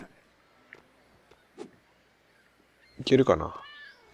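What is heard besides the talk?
cat meowing in a video game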